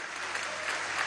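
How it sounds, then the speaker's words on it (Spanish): Applause at a government meeting for a Ministry of Health team, a brief, even burst of many hands clapping at once, moderately loud and steady throughout. "Un aplauso a este equipo fabuloso del Ministerio de Salud"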